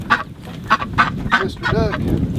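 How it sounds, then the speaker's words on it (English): Chickens cluck nearby in a backyard flock at watering time, giving a string of short, separate calls with brief gaps between them, followed by a longer, drawn-out call. "All right, little chickies."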